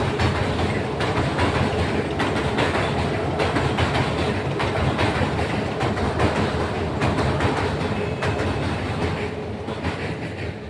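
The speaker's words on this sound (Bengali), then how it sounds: "দেখতেই পাচ্ছেন আমার যে পিছন দিক থেকে একটি লোকাল ট্রেন যাচ্ছে।" A local passenger train rolls past close by, its steady loud rumble and rhythmic clickety-clack of wheels on rail joints filling the whole stretch, easing slightly at the end.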